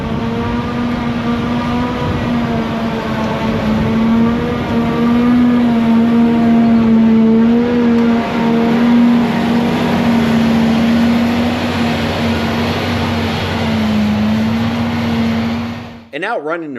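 Claas Jaguar 1200 forage harvester with a 12-cylinder diesel engine, chopping triticale on a dairy farm: a loud, steady low engine drone with a strong constant hum that holds throughout, dipping slightly near the end, with faint speech over it.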